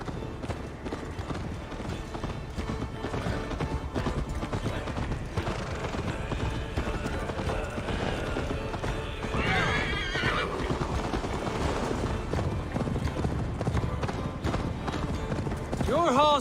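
Horse galloping and whinnying in the Viking-era game Assassin's Creed Valhalla, steady rapid hoofbeats with a neigh near the end, mixed under in-game talk and ambient music.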